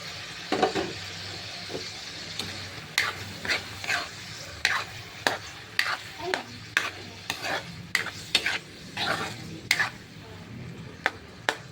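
Shrimp frying and being stirred in a pan with pork, garlic, onion and tomato, a steady sizzle broken by frequent sharp scraping stirs in an uneven rhythm, close and fairly quiet.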